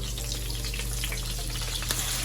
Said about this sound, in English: Alright, so now I'm about to flip my fish over.